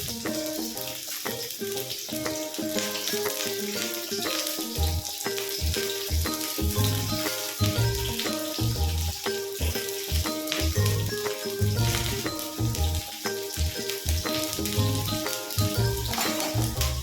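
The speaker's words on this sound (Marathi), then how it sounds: "चांगलं कडक तेल करून द्यायचं हाय फ्लेमवरती आणि मग कांदा टाकायचा." Onion dropped into very hot oil in a pan over a high flame for a potato vegetable dish, a loud continuous close sizzle with crackling, bubbling spatter and a few soft thuds, no voices.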